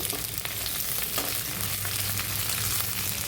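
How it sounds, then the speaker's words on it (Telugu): Long-cut okra fries in oil over a medium flame, giving a dense, even, close sizzle that holds steady throughout with faint stirring touches and no voices. "పొడవుగా కట్ చేసుకున్న బెండకాయల్ని ఆయిల్లోకి వేసి ఫ్రై చేసుకోవాలి"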